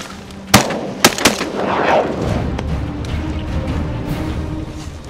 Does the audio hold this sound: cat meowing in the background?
no